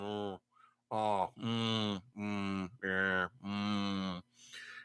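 A cow moos close by, five long, loud, drawn-out calls in a row with short pauses between them.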